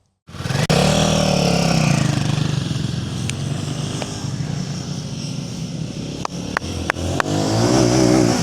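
A motorcycle engine hums steadily and close, droning on as the bike rides around a flat track, with a few sharp clicks and taps near the end.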